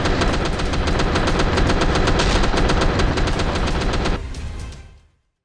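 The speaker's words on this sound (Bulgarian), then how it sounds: "Двата изстрела бяха точни, но, уви, минаха на сантиметри от целта." Rapid automatic gunfire in the video game DayZ, a long continuous burst of loud shots lasting about four seconds, then a fading tail into silence.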